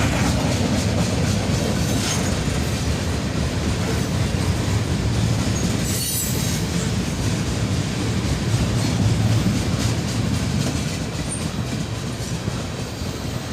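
Freight cars of a long mixed manifest train roll steadily past close by, including an air slide covered hopper, with continuous loud rumble and clickety-clack of wheels over rail joints.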